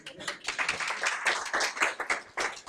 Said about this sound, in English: We'll use applause then instead of voting.